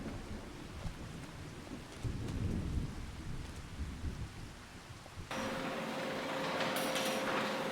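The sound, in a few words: rain in Farming Simulator 25 video game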